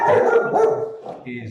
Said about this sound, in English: excuse my dog